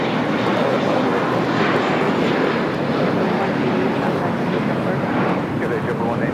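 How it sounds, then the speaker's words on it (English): A JetBlue Airbus A321 jet departs LAX with a loud, steady broadband engine roar that holds through the whole clip, along with wind buffeting on the microphone. "It's that freshly painted JetBlue A321 heading to Boston,"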